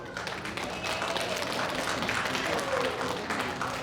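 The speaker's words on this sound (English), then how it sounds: "I want you to all give yourself a round of applause again." Steady applause from an audience at the Tucson Chinese Cultural Center's 20th anniversary celebration, moderately loud and continuous for several seconds with no talking over it.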